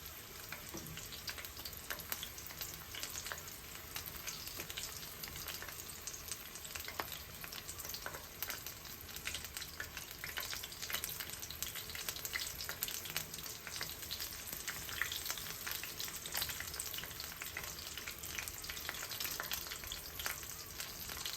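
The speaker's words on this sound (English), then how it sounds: "these seem to be browning up real nice" Beef and cheese wontons deep frying in a pot of oil, giving a dense, continuous sizzle and crackle that holds steady throughout, close and alone without speech.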